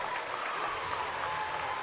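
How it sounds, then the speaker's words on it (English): Stryker fans at a girls regional semifinal basketball game against Miller City make a loud, dense wash of applause and crowd noise, steady and sustained across the gym. "The Stryker fans are getting extremely loud right now for their Lady Panthers"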